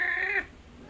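A short, bright cat meow at close range that cuts off abruptly, followed by quiet room noise.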